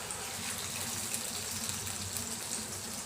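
Soy sauce mixed with cornflour slurry poured into a pan for chilli paneer, giving a steady, close liquid pour with a faint hiss and no talking.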